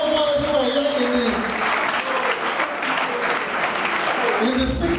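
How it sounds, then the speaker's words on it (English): Classmates at a school alumni gathering break into loud, sustained applause, a dense wash of clapping that continues for the whole stretch, with voices mixed in. "We can applaud you and your classmates will know where you are staying."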